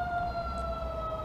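A steady siren tone of a passing ambulance or fire truck holds throughout over low traffic rumble, fairly loud and continuous.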